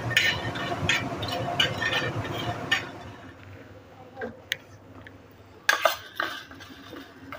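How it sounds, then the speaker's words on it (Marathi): Whole spices dry roasting in a pan for a traditional village-style mutton curry, with clinks and scrapes of a spoon against the metal pan, busy at first, then sparser, quieter stirring. "आता हे आपण खडे मसाले घेतले होते ना ते भाजून घेते"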